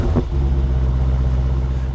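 A 2015 Dodge Challenger R/T Scat Pack with a 485-horsepower Hemi V8 gives a loud, deep, steady engine rumble after a brief rising rev at the start, close and alone.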